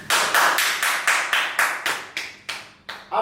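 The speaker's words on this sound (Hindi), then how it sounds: "तालियां।" Clapping at an acting class rehearsal of a political manifesto-release scene: about a dozen slow, evenly spaced, loud claps, each ringing briefly before the next.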